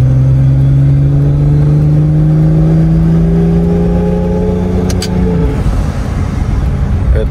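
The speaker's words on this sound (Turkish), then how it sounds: "bir boost sesi, bir turbo boşaltma sesi duyunca da insan mutlu oluyor" A car engine freshly rebuilt and paired with an 8HP75 automatic gearbox revs up loudly nearby, pitch rising steadily under turbo boost, then a sharp hiss of blow-off as the throttle drops and the engine settles back.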